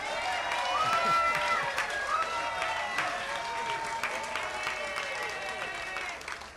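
Audience claps at an outdoor peace wall dedication ceremony in Sebastopol, with steady, dense applause from a crowd lasting throughout, fairly loud and continuous, with scattered cheers and voices mixed in.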